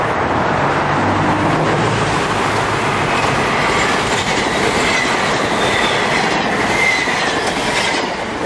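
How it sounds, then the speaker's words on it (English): A MARTA commuter rail train rumbles steadily past nearby in Forest Park, Georgia, loud and continuous, with rolling wheel noise and faint metallic squeals throughout. "Comes another MARTA train"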